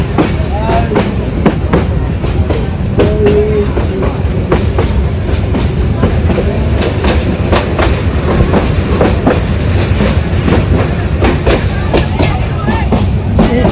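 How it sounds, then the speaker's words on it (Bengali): A moving train rattles along continuously with rhythmic clickety-clack from the wheels on the rails, loud and close as if heard from inside a crowded carriage, with voices mixed into the noise. "চলে যাচ্ছি, ট্রেনে আসি এখন।"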